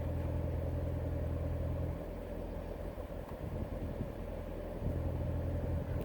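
A 2018 Corvette Z06 Convertible with its exhaust in track mode, a deep, steady low rumble holding near idle throughout, dipping slightly midway before swelling back, close and continuous with no voices.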